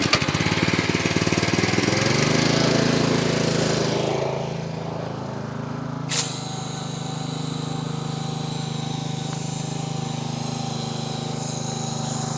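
A pressure washer runs loudly with a steady engine drone while spraying soap lather over a Polaris SxS; the pitch shifts partway through, then a sharp click and a slightly quieter, even hum follow.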